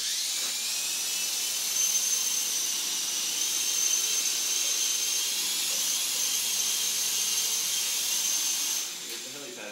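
An E-sky coaxial RC helicopter whirs with a steady high-pitched electric motor whine and rotor hiss close by, holding constant for most of the stretch before dropping off near the end.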